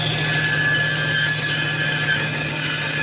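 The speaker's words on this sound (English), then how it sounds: "You can hear that the bandsaw is making a uniform noise, uniform sound" A bandsaw cuts steadily along a marked line, its loud, uniform whine holding constant throughout with no strain or change in pitch.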